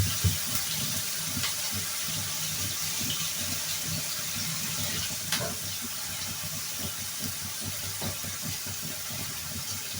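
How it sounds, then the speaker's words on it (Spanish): Tap water runs steadily into a sink while green asparagus is rinsed under it, a continuous close hiss and splatter with occasional small knocks and splashes. "Vamos a lavar los espárragos."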